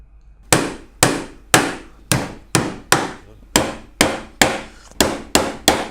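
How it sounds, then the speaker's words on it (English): A hammer drives nails into the wooden locking bars of a budget National brood body beehive, a dozen sharp, loud strikes in a steady rhythm of about two per second, close up and with no talking. "So the next job we've got to do is to nail the locking bars in place."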